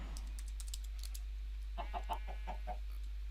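Quick bursts of clicking keystrokes on a computer keyboard, a rapid run of taps followed by a pause and a second, softer run of typing, close and crisp over a low steady hum.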